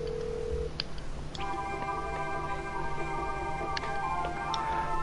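A phone in GTA 5 dials a number and places a call: a short tone, then a string of quick dialing beeps and a sustained ringing tone over a constant background hum of air conditioning.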